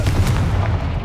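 A Confringo fire spell blast in Hogwarts Legacy, a loud booming burst with a deep rumbling body, close and forceful, fading slightly toward the end.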